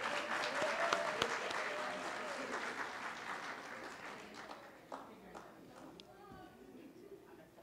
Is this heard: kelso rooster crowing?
no